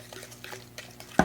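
Batter of mashed banana, coconut sugar and plant milk being stirred in a bowl for oatmeal chocolate chip nut butter cookies, soft scraping strokes with a louder clink of the utensil against the bowl at the end.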